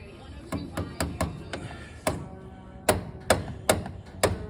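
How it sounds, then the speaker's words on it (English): A hand tool taps a cotter pin on a Hudson Hornet in a workshop: about ten sharp, close metallic strikes in uneven clusters, some louder than others. "What if we just give her a little tap tap with the proper tool?"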